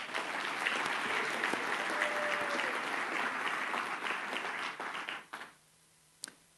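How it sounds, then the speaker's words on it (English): An awards ceremony audience applauds students, a full burst of steady clapping that fades out abruptly near the end, followed by near silence and a single sharp click. "Let's give another round of applause to all our brilliant students."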